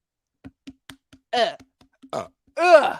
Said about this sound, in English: Jesus, come on with the burping.